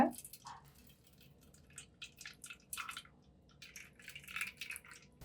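Water trickling and dripping as cooked lentils for a pudalangaai recipe are drained, a quiet run of small wet drips and splashes with faint squishing, close by and alone without talk.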